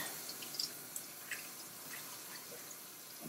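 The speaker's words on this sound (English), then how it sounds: "So I'm just going to let that drip a little bit from my hands off." Rinse water dripping off hands over a kitchen sink, faint, scattered small drips and trickles against a quiet background.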